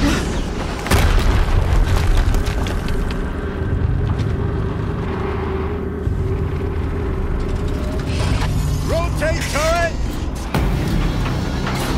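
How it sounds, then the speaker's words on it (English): A loud explosion in the Horizon Zero Dawn Maker's End boss fight, with a heavy boom up front. Dense game rumble, machine noise and sharp crashes continue throughout, with a burst of higher mechanical whines near the end. "Another explosion."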